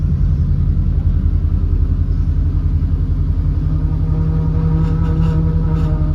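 A VW bus fitted with a Subaru engine drones steadily on a test drive, a loud, constant low rumble with a faint whine throughout and no voices.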